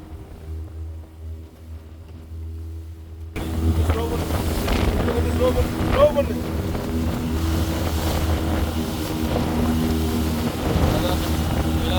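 A fishing boat's engine drones steadily at sea off Kanyakumari during deep-sea line fishing, with wind buffeting the microphone; the noise jumps louder after a quieter start and stays constant.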